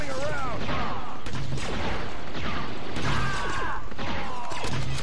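Rapid blaster fire from a wrist rocket weapon in Star Wars Battlefront 2, bursts of zapping shots repeating every second or so over a dense din of battle noise, with a voice speaking underneath.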